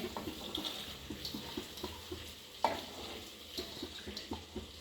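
Soaked lentils are tipped into a pressure cooker, making soft wet rustles and small clinks, a series of quiet, uneven pours and taps with one sharper knock partway through.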